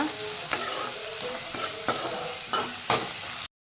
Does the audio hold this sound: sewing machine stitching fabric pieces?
no